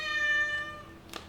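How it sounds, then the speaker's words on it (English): Cat meowing once in a drawn-out, tonal call that fades away, heard fairly close, followed by a faint click. "And now my cat has said hello to you."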